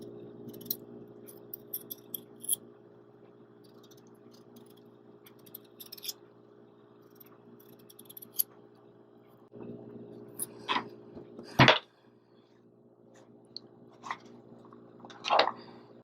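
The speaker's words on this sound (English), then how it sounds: "I'm going to use a knife because I find that I go much faster with the knife. So you're just going to peel your potato." A potato being peeled by hand with a knife, giving scattered scraping and crisp cutting sounds against a steady low hum, with the loudest strokes near the end.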